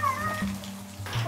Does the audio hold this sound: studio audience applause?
no